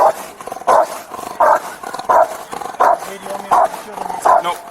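A police dog barks repeatedly in a steady rhythm, about seven loud close barks with short gaps, with muffled voices in the background during a tense police stop.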